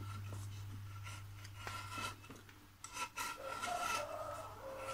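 Blade or cutter working around the rim of a loudspeaker's gasket during a precision speaker repair, a steady close scraping rasp with brief pauses and uneven strokes over a low constant hum.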